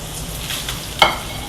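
Pieces of food sizzle steadily in a frying pan while browning for a Marsala dish, with a brief scrape or stir partway through and no talking.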